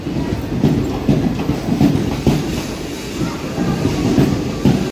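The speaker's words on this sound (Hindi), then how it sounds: "ट्रेन आ गई है मेरी, आप देख सकते हैं" Indian Railways passenger train pulling out of a station, a loud, steady rumble with rhythmic clickety-clack of wheels over rail joints, heard close by and continuous throughout.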